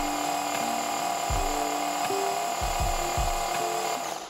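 A Graco Ultra QuickShot handheld paint sprayer pump priming during cleaning, a steady mechanical whine with a few low, rhythmic thumps as it runs.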